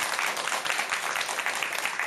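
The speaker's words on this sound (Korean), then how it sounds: "박수 한번 치소" Audience at a Buddhist dharma lecture on the Lotus Sutra claps together in a short, dense burst of applause that holds steady and fairly loud.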